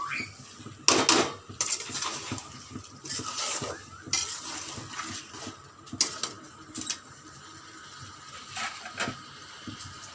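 A utensil stirs and scrapes spices around a pot for Bengali-style chicken biryani, with irregular metallic clanks and knocks over a soft background sizzle, close and alone without talking.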